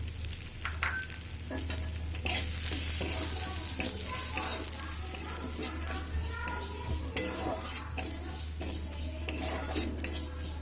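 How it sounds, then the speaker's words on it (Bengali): Moong dal fries in oil in a pan, a steady sizzle with a spoon stirring and scraping against the metal, close and alone with no talk. "ডালটা ভেজে নেব।"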